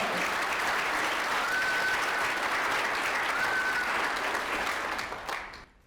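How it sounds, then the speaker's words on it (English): An event audience at a Junior Achievement Starmakers breakfast claps in a dense, even burst of applause that holds steady, then tapers off at the end. "Let's give a round of applause."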